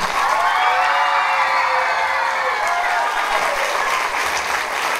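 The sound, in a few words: audience applause at a Mother's Day show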